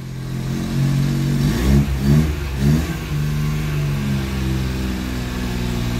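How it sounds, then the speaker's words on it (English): A cold 1985 Daihatsu Charade with its 1.0L G11 engine idles with a steady low rumble, rising through a few brief, gentle revs before settling back to an even idle. "Don't want to rev too much because the engine is stone cold."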